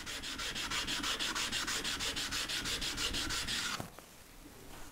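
A ceramic sharpening stone is rubbed back and forth on a flattening stone in a steady, rapid rhythm of gritty, close strokes lasting about four seconds. The rubbing then stops abruptly with a brief knock, leaving quiet.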